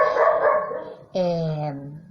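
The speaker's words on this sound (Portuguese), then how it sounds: "Eu estou aqui com o cachorro que ele não para de latir, o cachorro da vizinha" A neighbour's dog barks close by, a few sharp yelps followed by a drawn-out whining bark, loud and alone.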